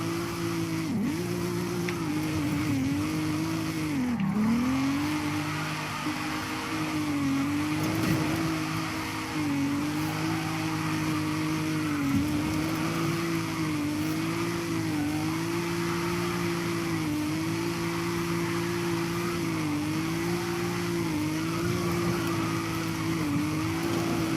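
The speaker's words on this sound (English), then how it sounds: "Are you ready to see the slowest drifting you've ever seen in your life?" A car drifts in Forza Horizon 5, a steady engine tone wavering up and down with repeated dips as it slides through turns, continuous and moderately loud for over twenty seconds.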